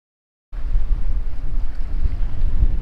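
Strong wind blowing on an Australian beach buffets the microphone with a constant low, rumbling roar that starts abruptly after a moment of silence and continues loud and steady, without talk.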